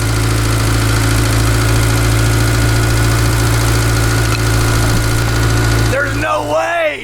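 A revived barn-find Honda CRX Si engine with 181,000 miles, running after more than ten years, idles loudly and steadily up close with a constant low drone, then a voice breaks in near the end.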